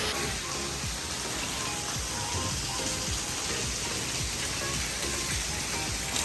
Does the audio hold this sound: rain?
yes